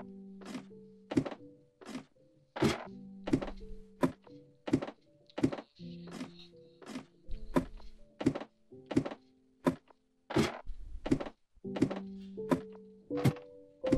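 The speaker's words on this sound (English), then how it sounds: "this new ladder noise is fucking creepy" Wooden ladder climbing in Minecraft: a long, steady run of about twenty-five sharp hollow knocks at a quick, slightly uneven pace, fairly loud and close, with faint game ambience underneath and no talk.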